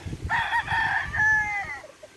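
A rooster crows loudly and close at a poultry farm in Laguna, one long drawn-out call rising and trailing off, with soft clucking and low farmyard rumble underneath.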